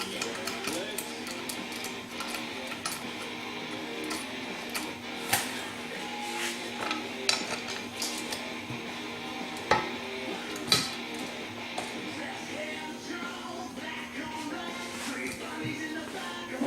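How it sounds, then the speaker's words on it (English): Allen head bolts being installed on a new Powerglide transmission pan, with scattered metallic clicks and light taps over a steady background hum, close by and moderately quiet, no talking. "We'll go ahead and get our bolts all installed."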